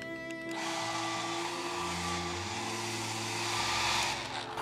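A hair dryer starts up and blows air in a loud, steady rush over a cardboard craft model, its motor pitch shifting slightly as it runs.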